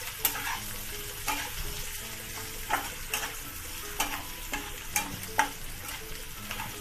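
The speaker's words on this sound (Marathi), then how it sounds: "बटाटा चांगला परतून घ्या तेला तुपामध्ये।" Potato frying in oil and ghee while being stirred sizzles steadily, with a spoon scraping and clicking against the pan every second or so, heard up close with no speech.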